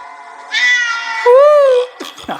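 A cat gives a loud, drawn-out meow in the RajaSaab movie teaser, one long rising-and-falling cry close up, followed by brief faint sounds.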